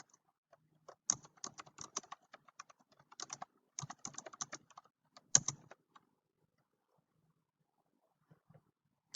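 Bursts of quick keystrokes on a computer keyboard while typing a Word document, clustered in short runs with brief pauses, close and fairly quiet with no talk.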